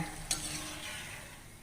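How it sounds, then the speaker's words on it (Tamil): Murukku frying in hot oil as the bubbling settles: a faint, steady sizzle with one brief utensil click near the start. "இப்போ பாருங்கள் என்னையோட சலசலப்பு எல்லாமே நல்லா அடங்கிருச்சு"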